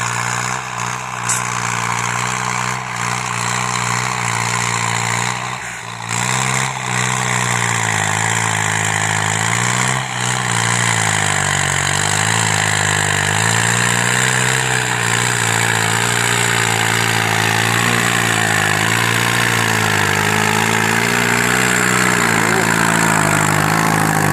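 Kubota M85 tractor engine working hard while pulling a four-disc plow through rough ground, a loud, steady close-up drone with a strong low rumble that pulses slightly in load and never lets up.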